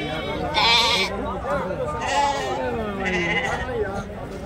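Sheep bleat at the Angallu livestock market. Several loud, wavering cries from nearby animals rise over a steady crowd murmur, with people chattering in the background.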